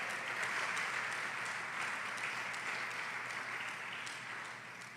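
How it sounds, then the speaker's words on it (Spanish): Church service congregation applauding for God, a dense, continuous wash of clapping from many hands that holds steady and then tapers slightly at the end. "¿Cuántos pueden darle ese aplauso al Señor?"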